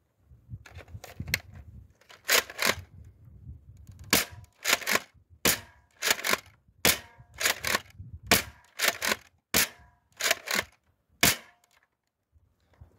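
An X-Shot Pro Longshot toy dart blaster fires about a dozen sharp, loud cracks at a slow, uneven pace, each followed by a short rattle, with no voices.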